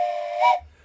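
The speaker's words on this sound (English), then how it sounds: "I think we might have a few train whistles tonight." A steam train whistle in the railway game OpenTTD, a single short shrill blast with a hissing edge that cuts off abruptly, heard alone.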